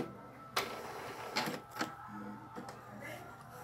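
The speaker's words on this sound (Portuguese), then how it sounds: "liguei a impressora" An Epson L395 inkjet printer powering up, giving a few short mechanical clicks and whirring bursts at close range against a quiet room.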